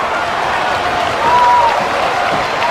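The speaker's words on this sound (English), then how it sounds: "I mean, the crowd is absolutely loving it." A crowd in the WWE 2K22 wrestling game cheers and applauds steadily, a broad, loud wash of noise that swells briefly midway while a commentator talks over it.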